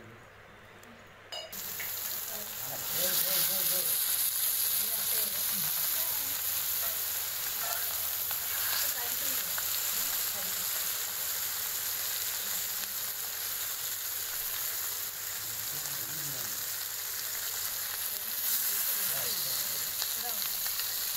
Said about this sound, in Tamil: கல் சூடான உடனே அதில் வந்து நிறைய எண்ணெய் ஊற்றிட்டு அதில் வந்து நம்ம வந்து இந்த மீனை வறுத்துட்டு போகிறோம்